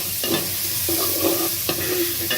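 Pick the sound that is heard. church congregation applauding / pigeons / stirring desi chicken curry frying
stirring desi chicken curry frying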